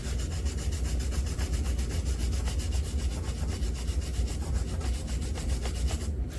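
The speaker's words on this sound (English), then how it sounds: "So I'm going to take the wire brush and just work my way across each gear" A wire brush scrubs rust off the gears of a Yamaha YZ80 dirt bike engine in fast, steady back-and-forth strokes, close and continuous with no talking.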